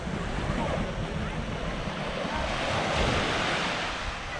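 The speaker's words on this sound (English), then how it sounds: "The sea is quite choppy, but very clear." Choppy sea waves break and wash continuously at Cala Torta beach in Mallorca, a steady loud roar of surf mixed with wind buffeting the microphone, with no voices.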